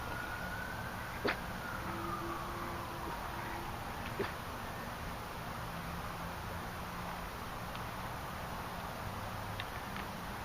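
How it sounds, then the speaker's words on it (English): A faint siren wails in the distance, a long rising and falling tone barely above steady background hiss, with a couple of brief clicks. "My dog gets a little excited with sirens"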